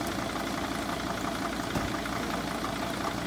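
A 2006 Mercedes Sprinter engine with a failing fan clutch bearing runs with a constant rough whirring drone and faint rattle throughout, continuous and fairly close.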